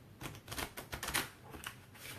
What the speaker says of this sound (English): I think I need to shuffle these cards a little more